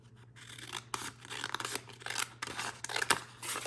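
Scissors trim infusible ink sheet pieces for coasters in a series of close, crisp snipping and rustling cuts of uneven rhythm against a low steady background hum.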